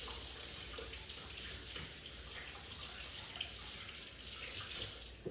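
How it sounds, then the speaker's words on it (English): Tap water running into a kitchen sink during hand washing, a faint, steady stream with light splashing, continuous and without speech. "let me wash my hands"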